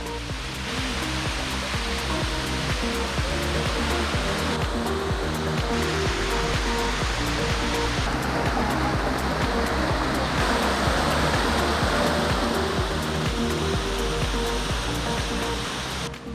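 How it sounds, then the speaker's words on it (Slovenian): Stopnik waterfall in Slovenia pours with a steady, loud, broadband rush of white water that holds constant and close throughout, with no voices over it. "zdaj pa sva prišla do Slapa Stopnika številka 2 in 3"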